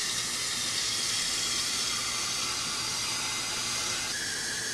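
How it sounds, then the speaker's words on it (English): Water pours steadily into a pot on a normal stove for a double boiler, a loud, close, continuous hissing rush with no pauses and no talk. "you're going to want to pour some water into it"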